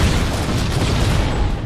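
A rocket explosion in the Halo video game, a loud, dense, sustained roaring blast filling the whole clip with rumbling low-end, no voices present.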